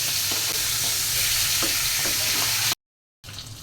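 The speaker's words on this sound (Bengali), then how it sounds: "মাছটা হালকা ভেজে নেব।" Fish frying lightly in oil in a pan, with a loud, close, continuous sizzle broken by soft stirring and scraping touches, then a short silence before the frying resumes.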